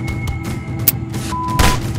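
A single gunshot in the ragdoll sandbox game People Playground, a sharp broadband blast late in the short clip, preceded by a smaller pop and lighter thumps over a busy low rumble.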